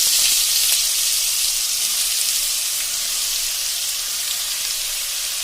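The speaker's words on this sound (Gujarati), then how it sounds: "હવે એમાં આપણે જે સમાયેલી છે ઝીણી દૂધી એ નાખી દેશું" Chopped bottle gourd drops into a loud fenugreek tempering for bottle gourd khichdi, setting off a strong, continuous sizzle that holds steady throughout with no talking.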